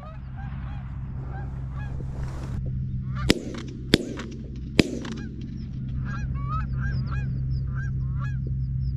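Canada geese honk repeatedly in flight during a late-season goose hunt. The overlapping calls build in a noisy outdoor scene, three sharp gunshots cut through, and scattered honks continue afterwards.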